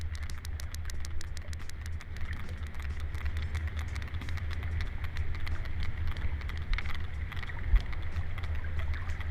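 Sperm whale clicking comes as a fast, regular train of sharp clicks that carries on steadily over a constant low rumble, with no voices.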